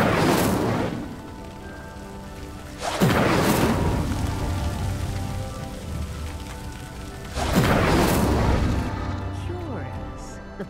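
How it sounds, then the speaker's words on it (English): A wooden pyre sinks into the ground after being set alight by an Incendio spell in Hogwarts Legacy, heard as two loud rumbling, crashing surges with a steady noisy rain-like bed between them. "The flames make the pyre sink."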